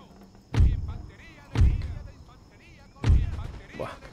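Musket volleys in an Empire: Total War battle, three heavy booming thuds spaced about a second apart, each fading into a rumbling tail, with faint talk in the background.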